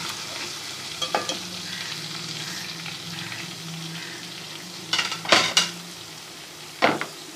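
Onion fries with garlic ginger paste in a pan, making a steady sizzle. A spoon stirs and scrapes against the cookware, with a few clustered clinks and knocks standing out clearly.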